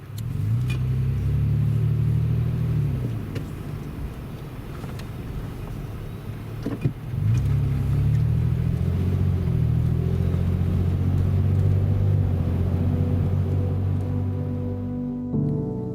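A car on a road trip drives steadily along, with a loud, close low engine drone and road rumble that shifts gear partway through, without talking.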